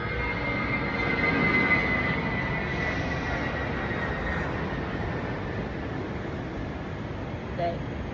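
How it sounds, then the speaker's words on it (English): An airplane passes overhead at the airport in Cabo, heard as a faint, steady low rumble that swells slightly early on and holds as a distant drone beneath nearby chatter. "That is the sound of an airplane flying overhead,"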